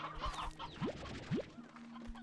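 Briarhen chickens in the video game Slime Rancher 2 give two short rising clucks, soft and spaced apart, over a quiet game background.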